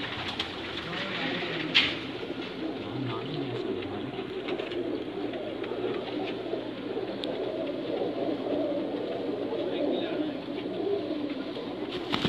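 Pigeons from a fancier's loft of paired birds coo steadily throughout, a soft, continuous murmur mixed with background bird calls and faint ambient noise.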